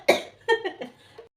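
A single sharp cough up close, followed by a few softer throaty sounds, fairly quiet.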